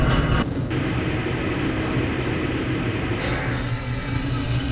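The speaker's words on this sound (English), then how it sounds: "This train is inbound from the Area 8 topside dormitories to the Central Transit Hub in Area 9" A tram-style train in the Black Mesa facility of the game Half-Life: Blue Shift rumbles and rattles steadily as it rolls along its track, a continuous loud mechanical drone with no talk over it.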